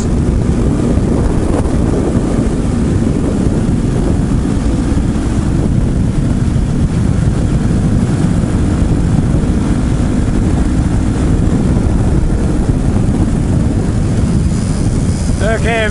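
Heavy wind buffets the microphone while riding an RPS Hawk 250 motorcycle, a loud, constant roaring rumble with the engine buried beneath it and no pauses.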